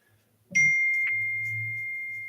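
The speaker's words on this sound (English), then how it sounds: "And there's a text message from somebody." A phone gives a single bright ding for an incoming text message, sharp at the onset and then ringing out steadily over a low hum for about two seconds.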